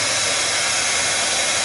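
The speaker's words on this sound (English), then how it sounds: "if you take your heat gun and you heat it" A heat gun blows hot air over paint, a steady, loud rushing roar like a hair dryer that holds unbroken throughout, with no speech.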